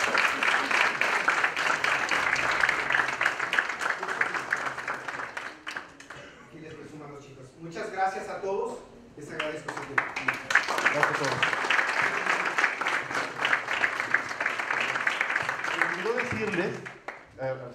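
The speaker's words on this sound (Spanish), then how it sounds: "Damos un aplauso a nuestro." An audience at a university congress in Mexico applauds in loud, sustained clapping. A voice speaks briefly during a quieter gap in the middle, and then the applause swells again.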